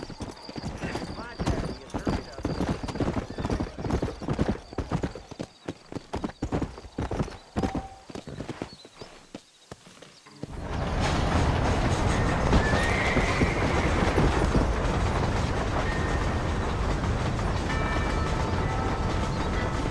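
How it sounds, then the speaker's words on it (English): Horses clip-clop at a steady walking pace in Red Dead Redemption, with whinnies and a voice over them, before a loud rumbling rail-like noise takes over in the second half. "You ain't gonna find sturdier horses than these in all of New Orleans."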